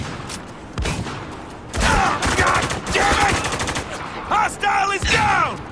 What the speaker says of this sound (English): Some heavy fire here.